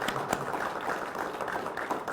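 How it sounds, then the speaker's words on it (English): Audience applause for law enforcement academy graduates at their graduation ceremony, a continuous, fairly quiet crowd clapping with scattered sharper claps, steady throughout and without speech. "Give them a big round of applause, please."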